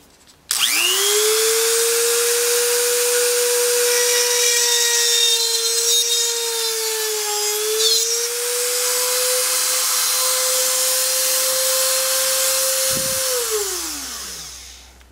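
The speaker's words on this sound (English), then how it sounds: "I'll use my rotary tool drill press." A rotary tool mounted in a drill press stand whines at a steady high pitch while boring into wood, running continuously for several seconds before spinning down at the end.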